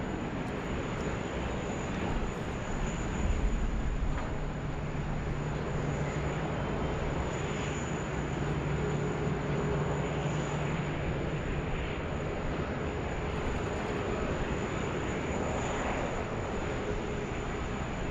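An Air Calin Airbus A330neo at Sydney Airport produces a steady, broad jet engine roar that holds level throughout, a continuous rumble with a faint high whine on top.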